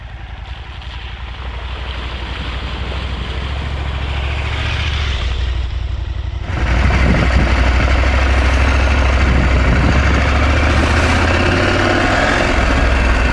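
A Norden 901 motorcycle engine idling, a steady loud low rumble that grows rougher and louder partway through, with wind noise over it and no talk.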